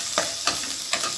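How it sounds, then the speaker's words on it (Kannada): Black peppercorns frying in a pan, a steady close sizzle broken by three evenly spaced stirring scrapes. "ಒಂದು 10 ಕಾಳಷ್ಟು ಮೆಣಸು. ಒಂದು 1 ನಿಮಿಷ ಫ್ರೈ ಆಗಲಿ."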